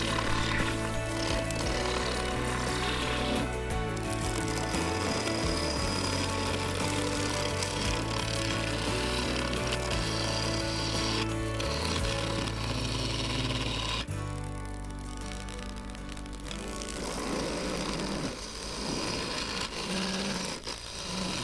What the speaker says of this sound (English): The carbide cutter made quick work of roughing out the outer surface.